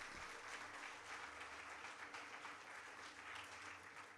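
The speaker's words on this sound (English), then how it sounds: "Applause must make the entire auditorium energetic." Steady applause fills an auditorium crowd at a service address, a dense continuous wash of clapping hands that holds evenly loud throughout with no voices breaking through.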